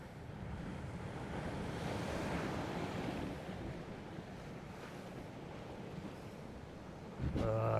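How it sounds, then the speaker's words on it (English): Ocean surf rolls in and breaks against shoreline rocks where someone is fishing for rock cod and blackfish, making a loud, continuous wash with wind buffeting the microphone, then a louder surge near the end. "there's waves coming side on as well"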